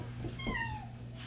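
A house cat gives a single short meow indoors, close and fairly quiet, over a steady low background hum.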